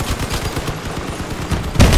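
Sustained gunfire in the vehicle combat video game Crossout as weapons shoot off an enemy vehicle's wheels, rapid continuous bursts with a louder boom near the end.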